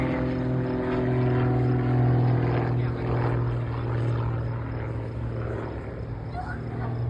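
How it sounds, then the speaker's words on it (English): A propeller airplane flying at a WWII weekend airshow at Reading Airport: a loud, steady, droning engine hum with a throbbing low tone that holds throughout, with someone talking over it. "As you can see, the airplane is very maneuverable"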